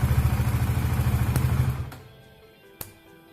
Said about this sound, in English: So it's showing up to 2000 RPM because my vehicle is now in idle.